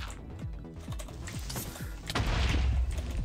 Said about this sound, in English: Why did I hear a creeper explosion?